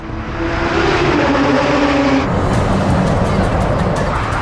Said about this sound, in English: there's these huge trucks here